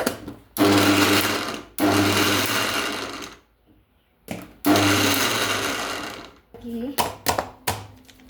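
Kitchen mixer grinder pulverising soybean chunks whirs loudly up close in two long bursts with a pause between, then a few short stuttering pulses at the end.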